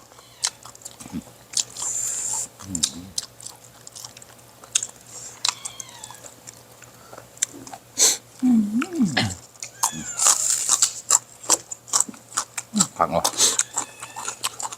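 A cat meowing in short, scattered calls while eating with audible chewing and crunching, close by, under frequent talk.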